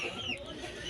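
Shamo chickens cluck while being fed mixed hammered corn, a brief burst of close clucking over a busy farmyard background.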